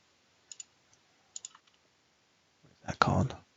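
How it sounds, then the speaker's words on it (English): A computer mouse gives a few quick, sharp clicks, close and fairly faint, in small pairs, before a person starts talking. "I'm just click, click, and click"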